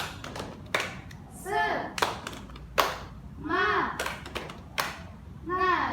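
An Indonesian classroom performs the rhythmic 'tepuk semangat' clap: sharp, close bursts of hand claps in a patterned beat, alternating with children chanting in unison between the clap groups.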